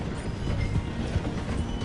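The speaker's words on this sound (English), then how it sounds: "The train is slowing down to go through the station." A steam-era train in the Red Dead Redemption II video game rumbles as it slows through a station, a steady low-pitched rolling roar with faint rail clatter, continuous and fairly close, with no talk.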